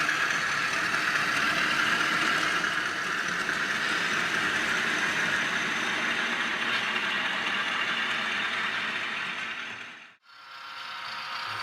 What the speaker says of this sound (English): Sierra freight being hauled by the diesels are entering Jamestown